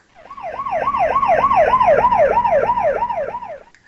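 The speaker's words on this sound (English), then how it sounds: "as the siren goes by, as it's approaching us, we hear a higher pitched sound" An ambulance siren wails in a steady rising-and-falling cycle, growing louder as it nears and then fading away, heard alone with no voices.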